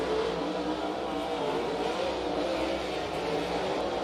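Dirt track race cars roar past on lap five at Stockton Dirt Track, a continuous high engine whine sweeping by at middle distance, with steady crowd-and-track noise underneath.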